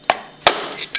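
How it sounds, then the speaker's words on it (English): A hammer taps a screwdriver against the steel casing of a seal in a Hypro 7560 series roller pump housing, giving three sharp metallic strikes spaced apart with a lighter clink between, close and clear. "tap it out with a hammer"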